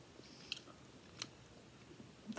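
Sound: chewing a tequila worm

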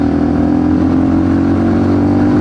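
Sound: motorcycle accelerating through gears

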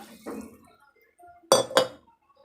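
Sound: water poured into a pot of rice for biryani

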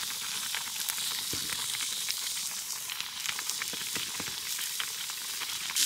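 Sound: hot pot broth bubbling while cooking in snow camp

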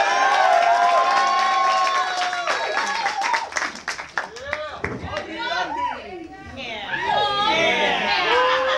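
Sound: comedy club audience applause and cheering

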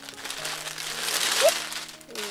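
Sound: plastic bag rustling while unpacking a dress

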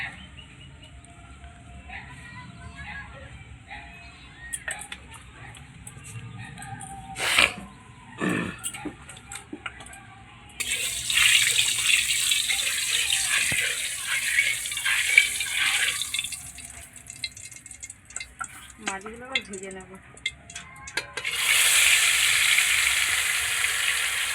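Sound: oil added to a hot wok, sizzling

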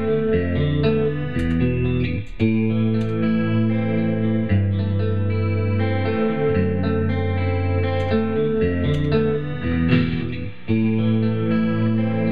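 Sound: electric guitar loop with effects

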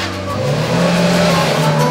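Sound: car engine screaming in wrong gear

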